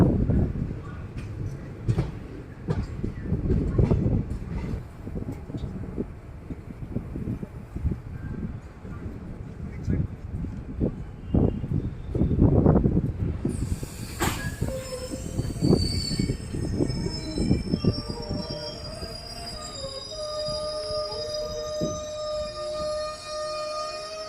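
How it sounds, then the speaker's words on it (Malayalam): Train hauled by a WDP7 locomotive arriving at Podanur Junction station, rumbling and clattering wheels with squealing, then a sustained high-pitched whine and tonal hum as it slows, loud and continuous. "ഒരു W F seven ലോക്കോമായി Podanur junction railway സ്റ്റേഷനിലോട്ട് ഇപ്പോൾ"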